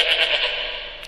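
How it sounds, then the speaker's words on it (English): A goat in the PC game Dora the Explorer: Click & Create gives a single sustained, wavering bleat, fairly loud and close, heard alone with no talk. "The next animal to find is the goat."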